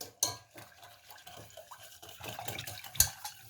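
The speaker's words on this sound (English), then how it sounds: "here's your whisk. You can whisk that in." Sugar being whisked into a pudding batter in a mixing bowl while baking malva pudding, heard as quiet, uneven scraping and clinking of the whisk against the bowl with a sharper knock near the end.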